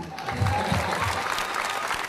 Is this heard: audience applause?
yes